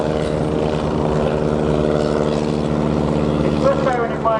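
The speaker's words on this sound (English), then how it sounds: "you can see the helicopter performing the manoeuvre known as quick stop" A helicopter flying a quick stop manoeuvre at the RNAS Yeovilton International Air Day gives a loud, steady rotor and engine drone with a strong tonal hum that holds throughout and shifts slightly toward the end.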